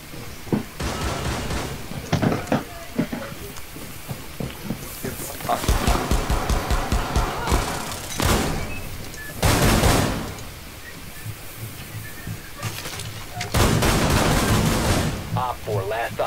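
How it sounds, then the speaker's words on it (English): Gunfire in the tactical shooter Rainbow Six Siege, with repeated bursts of shots and loud blasts across the match, mixed in with players talking over it. "I missed almost every shot, but somehow it hit."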